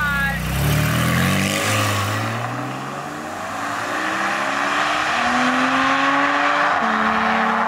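A car engine revs and accelerates through several rising gear pulls, loud and close, the pitch climbing, dropping at each shift, then climbing again, with a voice briefly present.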